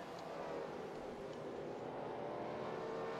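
A race car engine in NASCAR Racing 2003, a steady, dense drone held at one gear and throttle, moderately faint with no talk over it.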